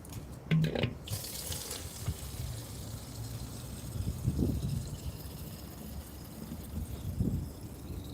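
Water runs from a tap into a sink as it fills, a steady splashing hiss that holds on throughout with slight swells, preceded by a brief clunk at the start.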